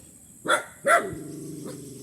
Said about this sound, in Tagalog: Kasama mo, 2 aso.